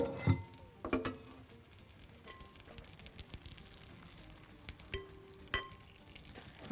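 Butter sizzles in a hot pan as beef cubes cook, with a steady frying hiss broken by clinks and scrapes of a utensil against the pan, close and fairly quiet.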